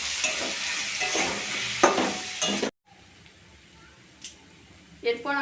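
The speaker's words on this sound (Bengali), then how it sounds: "এবার এটাকে আমরা একটু নেড়ে চেড়ে নেব।" Banana flower frying with ginger-cumin paste in a pan, stirred with a steady sizzle and scraping strokes that cut off abruptly, followed by quieter scrapes and a brief voice.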